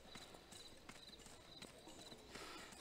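Rapid, steady clip-clop of video game horse hooves on a hard surface, fairly quiet, with a faint voice briefly in the background.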